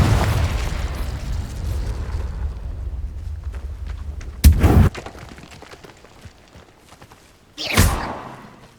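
Confringo explosive spell from Hogwarts Legacy on PS5: a deep rumbling blast opens and fades, then two sharp booming bursts strike, one near the middle and one near the end, each loud and close with a dull rolling tail.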